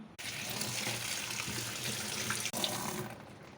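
Tap water runs steadily into a sink while cut eggplant pieces are washed, a continuous splashing gush broken by one brief pause.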